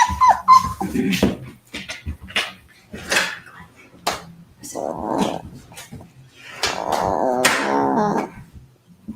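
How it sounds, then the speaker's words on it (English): Tiny puppies whimper and yip close by in repeated short bursts, with a longer stretch of whining cries toward the end. "Puppies."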